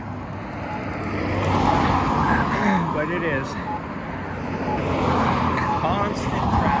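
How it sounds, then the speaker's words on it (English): Road traffic passing a roadside during a run with dogs: a steady, loud rumble and whoosh of cars going by, swelling and easing, with a voice talking over it. "constant traffic from the left."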